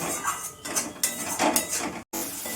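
Spices including coriander powder and Kashmiri chilli powder being stirred and fried in a pan, producing loud, continuous metallic scraping in uneven strokes that cuts out briefly near the end.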